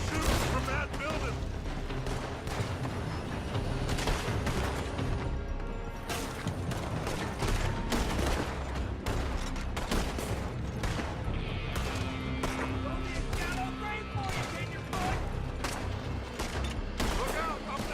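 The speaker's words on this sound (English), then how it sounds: "They're shooting from that building." Gunfire and shooting during a Red Dead Redemption II firefight, dense and continuous across the scene, with repeated sharp shots and crashes layered over game music and sound effects, loud throughout.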